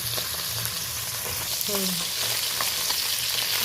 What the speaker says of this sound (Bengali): এই জন্য আমি অল্প অল্প করে মাছগুলো ভেজে নেব।